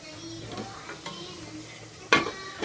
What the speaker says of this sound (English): I'm frying the potato.